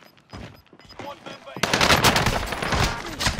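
Rapid automatic gunfire from Call of Duty: Modern Warfare erupts loud and close after a quieter stretch of scattered shots, continuing as a dense burst to the end.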